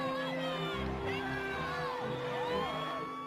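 Crowd cheering and shouting on boulevard Saint-Germain in Paris around Ségolène Royal, a dense, steady roar of voices with whoops and calls, close and continuous throughout.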